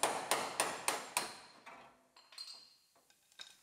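A series of sharp metallic hammer blows knocking off spot welds on a 2006 GMC Sierra panel, four strong evenly spaced strikes followed by lighter, irregular knocks and taps, close up.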